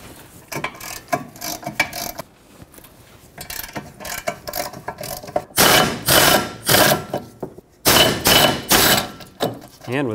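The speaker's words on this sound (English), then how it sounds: "Now use a 15 millimeter socket and remove the two bolts that hold the caliper bracket onto the knuckle." Ratchet with a 15 mm socket loosening the two caliper bracket bolts on the rear brake knuckle of a 2011-2018 Volvo S60, heard as bursts of close, fast clicking in several runs with short pauses between.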